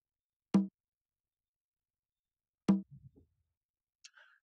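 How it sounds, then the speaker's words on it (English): A second conga sample from a beat production setup, heard as two clear, separate drum strikes about two seconds apart, the second trailed by a few softer low taps and a faint high ring. "And the second conga sounded this way."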